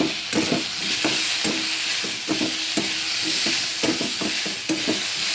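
Chopped green chillies, ginger and garlic fry in a pan for whole-pea ghugni, with a steady sizzle broken by regular scraping stirs of a spatula, close and alone.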